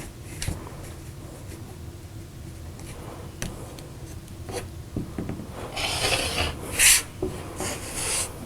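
Fabric strip cut along a quilting ruler: quiet, scattered scraping and ticking, then a brighter gritty slicing rasp swelling near the end, with no talk.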